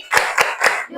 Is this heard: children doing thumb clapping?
yes